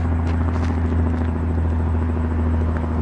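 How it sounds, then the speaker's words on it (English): A steady low rumble of a helicopter hangs in the air over Lethbridge, constant and fairly distant, with no voices. "It's a helicopter."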